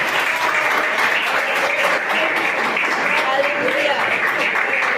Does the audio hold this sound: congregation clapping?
yes